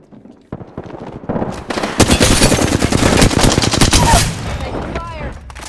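Rapid automatic gunfire in Apex Legends fills a tense firefight, dense bursts of shots loud and close with overlapping fire and impacts, building from scattered shots into sustained rattling volleys.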